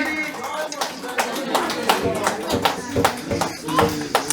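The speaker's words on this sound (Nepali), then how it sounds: "हामी सबैले ताली बजाएर उहाँलाई स्वागत गर्नेछौँ" A church congregation claps to welcome a guest at a Christmas Day service, uneven bursts of hand claps rising and falling over a few seconds, mixed with voices in the room.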